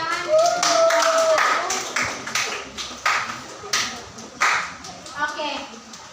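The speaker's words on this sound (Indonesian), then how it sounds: "mari kita tepuk tangan" A classroom of students clapping hands after a group presents a math answer: scattered, uneven claps over several seconds, with a whistling tone and voices mixed in.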